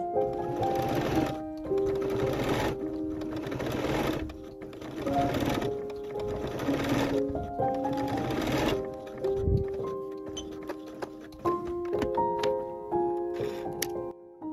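A sewing machine stitches the front centre seam of an autumn dress, running in repeated close bursts of steady whirring with short pauses between, over quiet background music.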